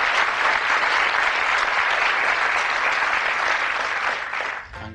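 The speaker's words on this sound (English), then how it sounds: "Give Angus a nice warm round of applause as he throws the charity." A studio audience on a 1982 darts game show gives a warm round of applause as a contestant steps up to throw for charity. The clapping is steady, dense and close for the whole stretch, then cuts off abruptly at the end.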